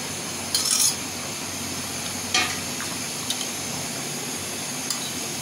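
Hilsa fish head and green chilies fry in a pan, giving a steady low sizzle with a few brief louder scrapes and clinks of stirring.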